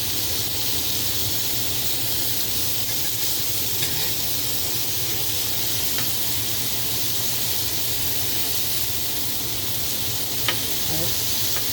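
Stuffed pork chops brown on a grill coated with cooking spray, producing a loud, unbroken frying hiss that stays even throughout, with a few faint ticks and no speech.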